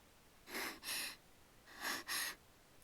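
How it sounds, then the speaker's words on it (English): Rough, ragged breathing of a sleeping girl as a visual novel sound effect: two pairs of close, breathy huffing inhale-exhale sounds, separated by a short pause. "Her breathing's rough and ragged."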